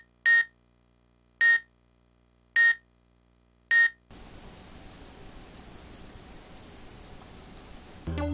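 Four sharp, evenly spaced electronic alarm beeps from a Game & Watch handheld in Super Smash Bros., loud and alone, then a quieter stretch of faint repeating high tones over hiss.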